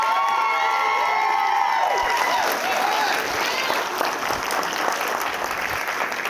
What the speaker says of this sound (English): let's go ahead and give our newlyweds here another round of applause